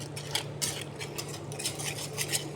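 A utensil stirring yogurt and salt in a bowl, with soft repeated scraping and clinking strokes at a steady rhythm, close and fairly quiet over a low hum.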